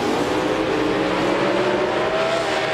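Drag race launch at the NMCA All American Nationals final round, including a 611 cubic inch 1969 Pontiac Firebird: a loud, steady roar of racing engines held at full power, with a rising whine riding over the dense noise.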